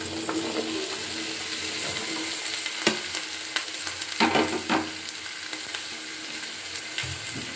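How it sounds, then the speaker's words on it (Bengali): Mixed vegetables for a Bengali pach misali curry sizzle in a hot pan under a constant close frying hiss, with scattered spoon scrapes and clatters as they are tipped in and stirred. "এবার আস্তে আস্তে সমস্ত সবজিগুলোকে আমি ঢেলে দিচ্ছি।"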